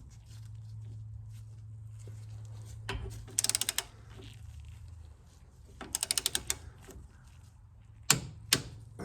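Torque wrench clicking in short rapid bursts while tightening a strut bolt on a 2014 Chevrolet Silverado front suspension, three distinct clusters of sharp ratcheting clicks over a low hum.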